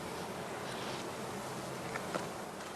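Honey bees buzzing around heather skeps at an apiary in spring, a dense, continuous hum of many wings, fairly faint and steady, with a couple of brief closer passes standing out near the end.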